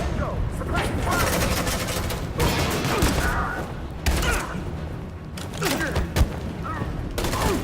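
Gunfire in the Detroit: Become Human video game, bursts of shots and booms rolling through a tense firefight, dense and continuous with a few sharper cracks, under music and effects while voices talk over it.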